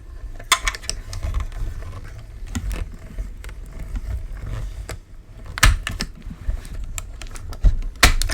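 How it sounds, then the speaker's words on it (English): Manual die cutting machine being cranked to cut a paper card piece, a series of close mechanical clicks and ratcheting taps over a low grinding rumble, irregular sharp snaps spread through the run. "And then I can die cut that piece out."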